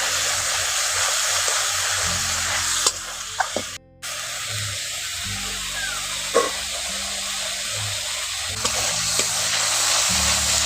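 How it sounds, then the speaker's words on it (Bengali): Spice paste with a little added water cooks in a pan for a pointed gourd and red lentil dish, hissing and sizzling steadily with brief pauses and occasional stirring scrapes. "জলটা দিয়ে ভালো করে মশলাটাকে একটু সিদ্ধ করে নিচ্ছি।"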